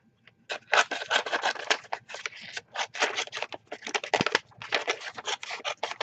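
Scissors cutting out a vellum butterfly, close crisp snips and rasping slices of the thin translucent paper in quick irregular bursts, with brief pauses between cuts.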